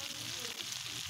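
Eggplant slices fry in hot oil, giving a soft, steady sizzling hiss that is faint and continuous over a brief moment.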